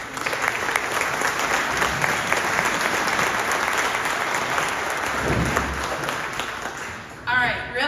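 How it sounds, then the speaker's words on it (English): A large audience applauds at a supply chain conference, dense steady clapping filling the room for about seven seconds before a voice cuts in near the end. "give them a great round of applause"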